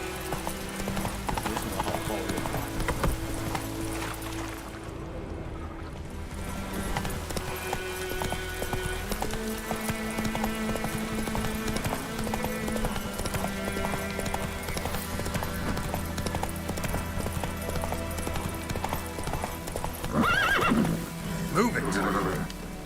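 Roach, the horse from a video game, gallops with rapid rhythmic hoof clip-clops and gives loud whinnies, set against a steady bed of game music and ambience, with a louder neighing burst near the end.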